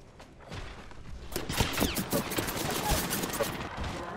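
Gunfire in the Apex Legends video game, with bursts of shots and sharp cracks that become dense from about halfway through, while a voice talks underneath.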